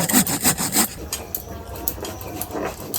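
White seeds are ground by hand on a grinding stone, with a rough, rhythmic scraping of stone over stone in quick strokes close by. The strokes are strongest at first, then turn lighter and more scattered.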